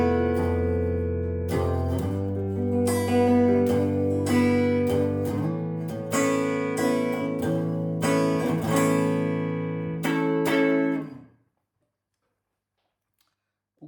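Clean electric guitar through an Ibar tube combo amp, strummed chords and picked notes ringing close and loud for about eleven seconds before cutting to silence.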